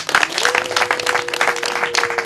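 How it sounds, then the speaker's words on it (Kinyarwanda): An audience in Kigali applauds a gospel singer with dense, continuous clapping that stays loud and even throughout, a faint voice and steady tone beneath it. "Murakoze bongera babampereye amashyi menshi."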